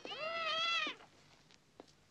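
A caged cat gives a loud drawn-out meow lasting most of a second, followed by a couple of faint, brief mews at a distance.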